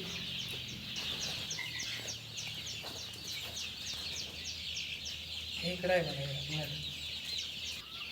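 Chickens, a flock of about 2,000 desi birds, cluck and chatter continuously inside a poultry shed, murmuring together with a brief louder squawk partway through.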